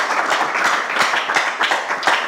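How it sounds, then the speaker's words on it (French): Audience applause for the jury at a televised school competition show, steady dense clapping from a crowd that stays loud and even throughout, with no speech over it. "on peut les applaudir très fort"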